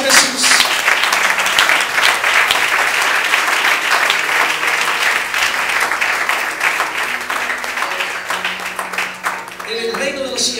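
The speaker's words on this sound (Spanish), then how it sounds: "Denle un fuerte aplauso a Jesús." A church congregation bursts into loud, dense applause for Jesus during a sermon, a sustained roar of many hands clapping with voices shouting underneath, easing slightly near the end.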